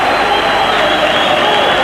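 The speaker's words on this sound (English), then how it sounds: "with thunderous applause from everybody at Victoria Stadium" A crowd at Victoria Stadium in Gibraltar applauds a boxing bout, a steady, dense roar of clapping and cheering with no break across the short stretch.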